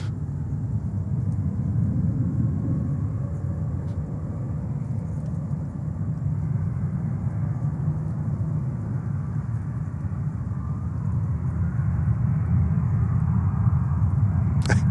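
An El Al airliner in gold Jerusalem special livery at JFK airport gives a steady, distant low jet rumble that holds level for fifteen seconds, with no speech.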